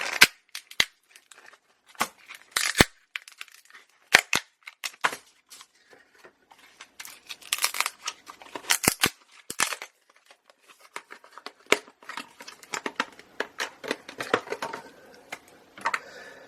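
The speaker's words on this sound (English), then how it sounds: "this plastic. It's kind of strong. Let me tear off this housing." Stiff plastic housing torn away from a silicone soap mold, heard as a string of sharp cracks, snaps and crinkling tears in irregular bursts, close and fairly loud with short pauses between.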